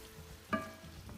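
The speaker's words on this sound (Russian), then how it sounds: "И обжариваем в течение 5, может 6 минут." Vegetables fry and sizzle in a pan for a vegetable ragout, a soft steady crackle with one brief louder clatter of stirring midway.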